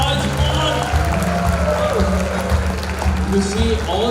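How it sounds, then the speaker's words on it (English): At a special school's silver jubilee celebration, an audience gives a round of applause for the young schoolchildren, the clapping blending with loud music and crowd noise rather than standing alone. "Right, guys, you gave them a round of applause. Make some noise."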